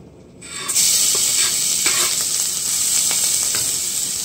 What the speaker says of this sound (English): Now we will be adding the garlic in.